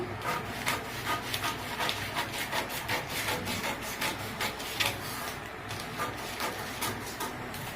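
Scissors or a cutting tool work through a long-sleeve pattern, giving a continuous run of quiet rhythmic rubbing and cutting strokes with soft background noise.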